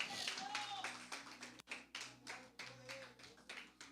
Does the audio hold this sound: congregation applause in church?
yes